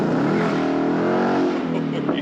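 Mustang GT converted to a Shelby GT500 pulls hard in first gear, its engine note rising steadily and loudly for about two seconds, with voices talking over the roar.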